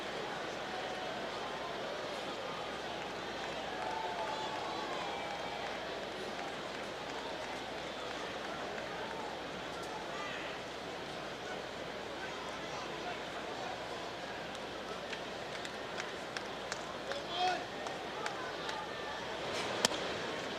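A large baseball crowd at Fenway Park sits in a low, steady murmur during the eighth inning of a Yankees–Red Sox game, a sustained hush with a few faint scattered shouts and claps near the end.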